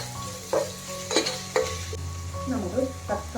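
Prawn majboos masala is stirred in a sizzling pan, with steady frying hiss under repeated scraping strokes of a spoon against the pan, close and moderately loud.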